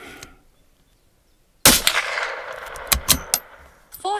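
A single sharp crack from a Tikka T1X .22lr rifle firing a Remington Yellow Jacket round after a misfire, loud and close after near silence, followed by a few fainter clicks and knocks.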